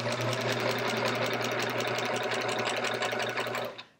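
Nearby sewing machine fitted with a walking foot stitches quilting through fabric in a fast, steady mechanical chatter that runs continuously, then stops abruptly near the end.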